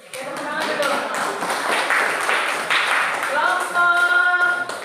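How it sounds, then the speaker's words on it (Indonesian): Classroom audience claps after a group presentation at a teacher training assessment, steady applause mixed with voices, and a spoken or sung voice rising over it near the end. "Tepuk tangan dulu."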